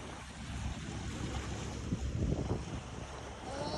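Sea waves washing onto the seashore near Bet Dwarka, a continuous rushing surge rising and falling under heavy wind noise on the microphone.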